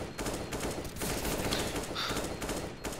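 Bursts of rapid gunfire from a Counter-Strike: Global Offensive match crackle in quick succession, fairly faint and dense with short gaps between volleys.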